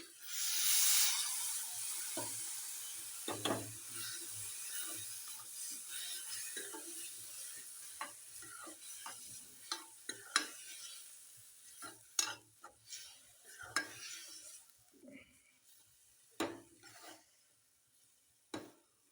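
Matki dal lentils go into a hot pan with a brief burst of sizzle, followed by quieter frying and repeated scraping stirs at an irregular pace.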